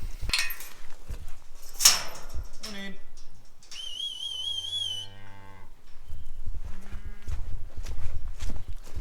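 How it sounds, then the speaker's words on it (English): A herd of dairy cows moving off a feed pad toward pasture, with loud close moos rising over shuffling hooves and a few whistles, plus steady outdoor background noise throughout. "these cows are done in here. They can move off the feed pad."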